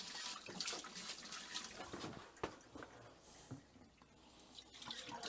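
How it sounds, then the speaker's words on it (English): Water and air trickle and sputter from a hose during winterization of a property, with faint, uneven splashing and gurgling close by and no talk. "you got a little bit of trickling out, but it's pretty much just air by now"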